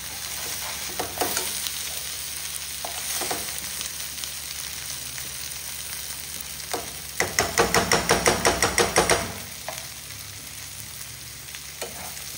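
Fish frying in a pan for a feast of fish dishes, heard as a steady sizzle with scattered stirring knocks and a rapid run of scraping strokes near the end. No one speaks.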